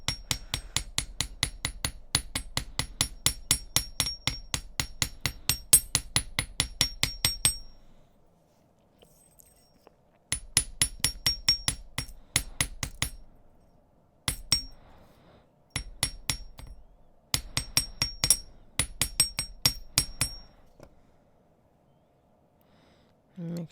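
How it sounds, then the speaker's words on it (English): Rapid, evenly spaced metallic hammer strikes on a metal cuff bracelet ring out in long bursts separated by short pauses, close and bright, with no speech. "I'm just gonna hammer the other part as well"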